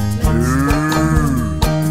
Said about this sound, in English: Goodbye, cow.